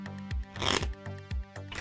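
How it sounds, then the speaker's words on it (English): A tarot card deck being shuffled, giving short repeated riffles and slides of cards in a quick, close, uneven rhythm with one longer burst in the middle. "I'm going to shuffle one more time"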